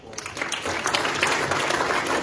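An alumni talk audience breaks into applause for the speaker, the clapping swelling quickly after a short start and holding as a dense, even patter of many hands.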